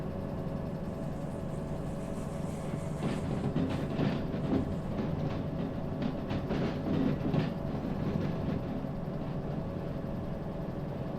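A train in the Derail Valley train simulator game runs steadily with a low engine rumble and faint rhythmic rail clatter, moderately loud and continuous throughout with no talk.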